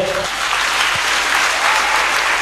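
A church congregation applauds and cheers for Jesus Christ during a healing testimony, with dense, steady clapping that fills the whole stretch without letup and no speech over it.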